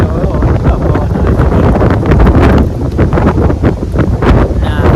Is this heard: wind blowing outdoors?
yes